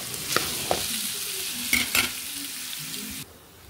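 Boiled chicken and onions fry in a pan while being stirred, with a steady close sizzle broken by several scraping stir strokes, loud and alone before dropping off sharply near the end.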